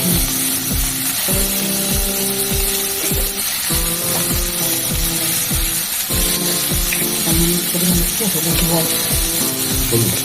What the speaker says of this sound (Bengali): কালো জিরে দিয়েছি কাঁচা লঙ্কা দিয়েছি তেলের উপরে